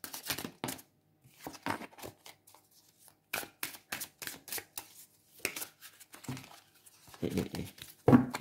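Tarot cards are drawn and handled in a quiet room: short, separate bursts of papery shuffling, flicking and crinkling with pauses between them, ending on a louder crisp handling sound.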